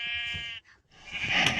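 Sheep bleating in the Minecraft video game, a single drawn-out, wavering bleat followed by a second louder bleat with a short gap between them, clear and alone.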